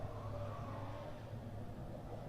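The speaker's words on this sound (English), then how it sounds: "So there you see that lovely Scirocco in the hands of Arnold Lambert." A Volkswagen Scirocco race car driven by Arnold Lambert, accelerating in a circuit race on an overcast day, its engine a steady, loud mid-pitched drone throughout.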